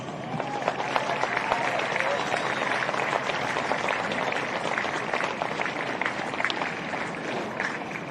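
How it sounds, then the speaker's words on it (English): At a women's military world football championship gold medal match, a crowd gives a steady round of applause for sponsors, an even crackle of distant clapping with voices mixed in. "Please thank our sponsors with a round of applause"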